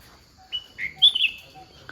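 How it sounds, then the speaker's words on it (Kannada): Small birds outside a forest cabin give a few short, high chirps and tweets, fairly close and clear against quiet surroundings, with no talk. "ಬರ್ಡ್ಸ್ ಸೌಂಡ್ ಎಲ್ಲ ಇದೆ"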